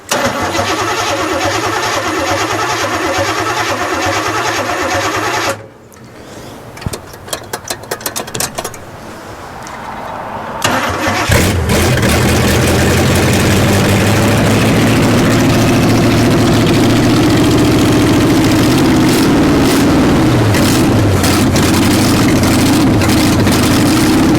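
An abandoned 1967 GMC truck, fed fuel from a gas can, cranks for several seconds, goes nearly quiet, sputters and then catches, running loudly and steadily at a rough idle through to the end.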